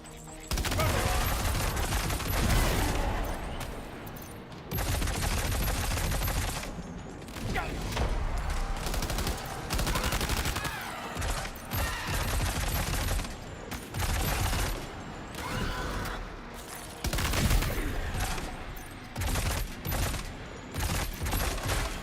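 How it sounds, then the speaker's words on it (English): Assault rifle fire in the video game Death Stranding 2, loud repeated bursts and sustained volleys running throughout, with brief gaps between strings of shots and mechanical clatter mixed in. "Let's do the classic assault rifle."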